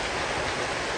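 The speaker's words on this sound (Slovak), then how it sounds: "Potok je tu rozvodnený na všetky strany" A flooded mountain stream spilling over a rocky trail on a hike toward a mountain hut, a dense, steady rush of water heard close and loud with no voices.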